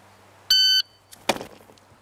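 A shot timer gives a single sharp, high electronic beep lasting about a third of a second, followed by a brief clattering knock, with a quiet background.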